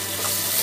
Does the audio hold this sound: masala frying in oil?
yes